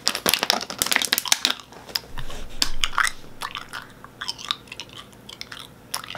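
Crunchy, wet chewing and biting at a dinner table, a run of close mouth sounds with crisp clicks and crinkles in steady bursts, fairly loud and near, with no talk.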